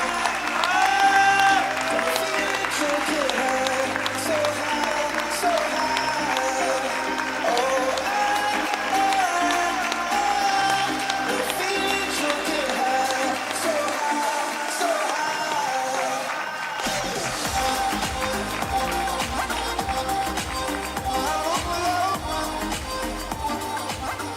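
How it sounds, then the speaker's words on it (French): Audience applause at the opening of the Mademoiselle Centre 2017 regional beauty pageant, continuous clapping that mixes with loud music throughout and briefly shifts midway. "Un tonnerre d'applaudissements."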